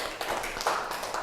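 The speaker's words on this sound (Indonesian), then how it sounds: "Tepuk tangan untuk kelompok 2." Classroom students clap for a group of classmates, a quick patter of close overlapping hand claps that lasts only a moment.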